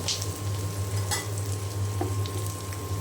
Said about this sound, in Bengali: আমি এই পাশও খুব ভালো করে ভেজে নিব